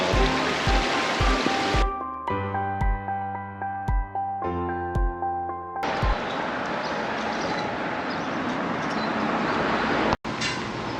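A mountain valley stream on Gamaksan, cool water flowing steadily over rocks in a broad, continuous rush, with a stretch of tonal interference and light knocking partway through before the water noise returns full and unbroken.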